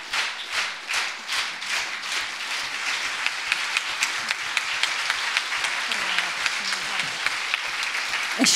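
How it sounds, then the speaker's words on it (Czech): An audience at a book launch in Lucerna claps in a steady rhythmic beat that swells into dense applause lasting several seconds, with voices audible beneath it. "křtíme za vašeho frenetického potlesku"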